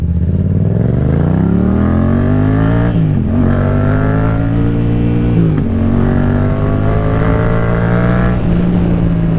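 A Yamaha MT-07 motorcycle engine revs loud and close, climbing in pitch, dropping back, then rising again to a sustained high rev.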